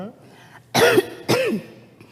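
Two short, harsh coughs, a brief pause between them, close and fairly loud, with a faint voice nearby.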